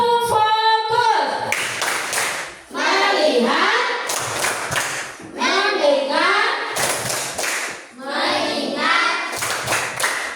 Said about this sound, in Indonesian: Coba kita berikan tepuk fokus.